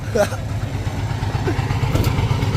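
A motorcycle exhaust rumbles low and steady nearby while people talk over it.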